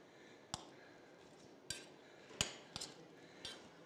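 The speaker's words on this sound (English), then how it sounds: "We put in the pesto. We give it a sort of stir." Pesto is stirred into gnocchi in a pot, heard as five sharp, separate clinks of a utensil against the metal, spaced irregularly and quiet against near silence.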